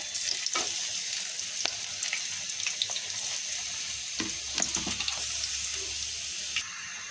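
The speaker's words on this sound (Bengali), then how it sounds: "একটু পাঁচফোড়ন শুকনো মরিচ আর রসুন সরিষার তেলে ফোড়ন দিয়ে দিচ্ছি" Mashed olives frying in hot mustard oil with panch phoron, dried chillies and garlic, giving a steady close sizzle with occasional stirring clinks and scrapes, no talking.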